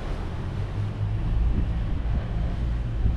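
Lagoon 450 F catamaran under way at sea at about 8.9 knots, a steady rushing roar of wind and water against the hull, loud and continuous with no voices.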